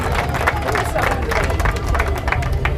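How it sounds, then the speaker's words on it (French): An outdoor crowd at a village terroir festival applauding vintage motorcycle restorers: dense, steady clapping with scattered cheers and murmured voices, loud and close throughout. "Vous pouvez les applaudir parce que c'est quand même remarquable."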